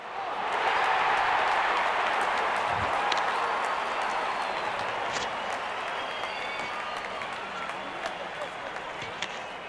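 A cricket video game crowd cheers and applauds in a broad, sustained roar that gradually eases, with commentary over it.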